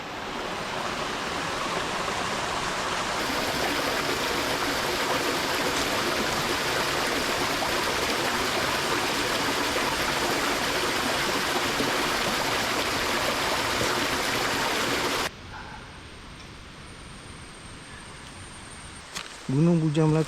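Clear water flows in a forest stream on Gunung Bujang Melaka, a steady, loud broadband rush that runs for most of the clip, then drops abruptly to a quieter background near the end.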